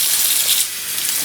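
Hot water pours steadily from a sink faucet, a loud, close, continuous hiss and splash with no talk.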